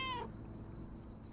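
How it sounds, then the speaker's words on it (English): Mortimer the cat in the video game Lake, heard on PlayStation 5, lets out one short, clear meow at the start. A steady low background hum continues afterward. "Here, little kitty. Come on."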